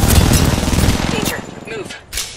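Video game gunfire, a loud dense rattle of rapid shots and blasts that fades out, then a few sharp cracks at the end, with some voices mixed underneath.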